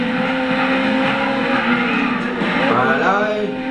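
Gran Turismo 6 race car at Brands Hatch Indy circuit weaving to warm its tyres, a steady engine drone with shifting pitch and a rising rev sweep near the end, under ongoing talk.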